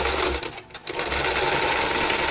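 A sewing machine runs steadily, stitching a zigzag seam on small doll pants, with a brief pause midway before the rapid whirring needle resumes, close and alone.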